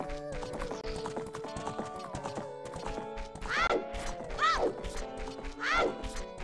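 Horse hooves clopping in Zelda: Ocarina of Time on the N64, rhythmic game clip-clops mixed with tonal music and bright sweeping effects, fairly loud and without talk.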